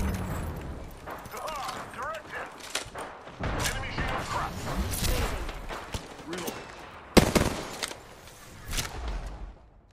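Gunfire in the video game Apex Legends, bursts of shots and impacts scattered through busy game noise, with players talking over much of it.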